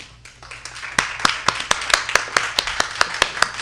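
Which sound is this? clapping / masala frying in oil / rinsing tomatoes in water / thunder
clapping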